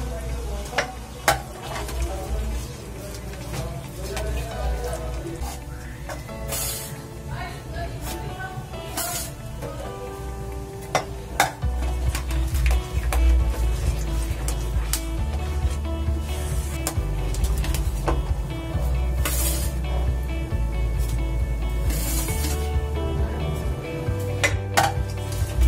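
A spoon scrapes and clinks steadily in a pan as powder mix is stirred into barfi, with close, busy clattering that grows slightly louder and denser partway through.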